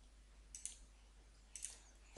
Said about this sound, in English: So I'm just going to click Control and E